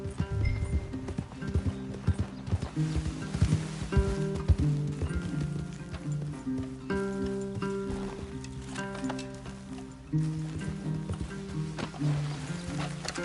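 Horses in the video game Red Dead Redemption 2 clip-clop at a steady walk with occasional snorts, set against a continuous orchestral game score that runs under the hoofbeats throughout.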